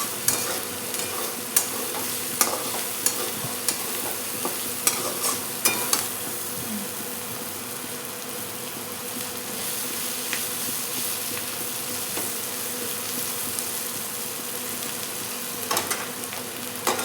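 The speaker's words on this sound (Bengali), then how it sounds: "এরকম করে নাড়াচাড়া দিতে দিতেই ভাজিটা হয়ে যায়" Moong dal bhaji being stirred in a hot pan, a steady close sizzle of frying with repeated scraping and stirring strokes throughout, no voices.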